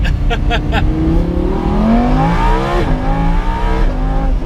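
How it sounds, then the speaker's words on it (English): A Lamborghini Huracán's exhaust revs hard and loud, pitch climbing and falling through gear changes, with a few sharp pops at the start. "That exhaust makes up for it."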